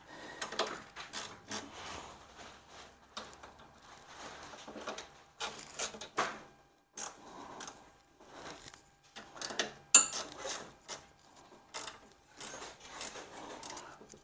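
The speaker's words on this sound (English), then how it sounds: "I went ahead and just grabbed this small little ratchet with an Allen on the end of it" Small ratchet with an Allen bit tightening screws on an Allett Liberty 43 reel mower, giving soft, close clicking and ratcheting bursts in short irregular runs with pauses.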